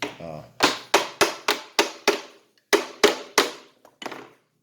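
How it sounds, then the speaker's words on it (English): A series of sharp metallic hammer taps, about eight evenly spaced strikes with a short pause midway, ringing briefly on the metal inlet valve housing of a Graco 390PC paint sprayer close by. "Tap it with a hammer here to loosen your lower foot valve here, your inlet housing."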